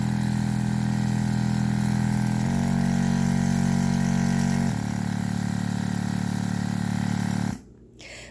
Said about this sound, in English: If you can tell by sound, this is not a real quiet compressor.